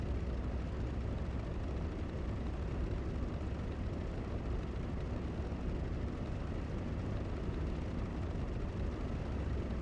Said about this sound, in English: I'm now going to taxi to the runway